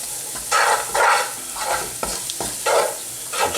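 Curry powder is stirred through frying onions for a chicken Madras, with loud rhythmic scraping strokes over a constant sizzle, about six stirs in a row and no voices.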